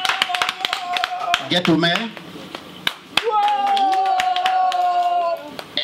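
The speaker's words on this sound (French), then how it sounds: "On applaudit quand même" Bursts of hand clapping crackle throughout at a Paris bar event while a voice talks loudly over them.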